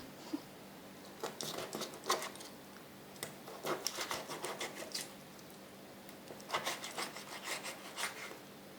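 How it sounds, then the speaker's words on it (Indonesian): A knife cuts through chicken for soto betawi on a board, making quiet, close rubbing and rasping strokes in irregular bursts with brief pauses, and no talk. "Kita potong ayamnya."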